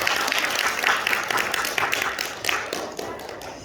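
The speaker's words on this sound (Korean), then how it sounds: "자, 우리 한번 다시 한번 박수 한번 볼까요?" A church congregation applauds during a Sunday worship service, a dense patter of many hands clapping for several seconds and easing slightly toward the end, with some voices mixed in.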